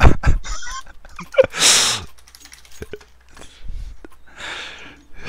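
A person imitates a chicken or rooster during a Counter-Strike game, giving short squawking cries among clicks, keyboard taps and scattered noises, loud and close in bursts.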